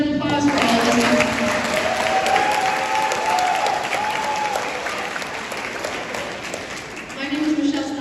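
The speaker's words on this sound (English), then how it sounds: "so give Denise a round of applause for all of this" Crowd applause at a school graduation ceremony, loud and sustained for several seconds, with faint voices and a brief whistle-like tone through the middle.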